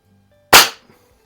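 A single sharp crack from a Norica Dream Hunter .177 underlever spring-piston air rifle, loud and close in an otherwise quiet setting, decaying quickly with a faint trailing rattle.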